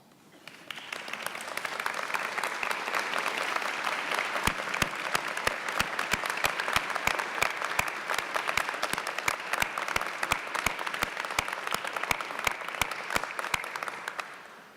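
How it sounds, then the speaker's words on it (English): Sustained applause from a large audience at a university public policy commencement ceremony, swelling in quickly and holding steady with dense clapping before fading slightly, with no talk over it. "Please stand and give your loved ones a round of applause."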